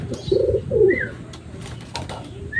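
A pigeon gives a few low, throaty coos close by, short rolling calls separated by brief pauses.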